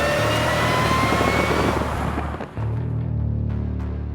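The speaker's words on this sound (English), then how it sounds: "The kind of noise that engine makes behind you, it's raw by 2018 standards" A loud, raw Ford GT sports car engine roars steadily, dips briefly, then settles into a deep rumbling idle.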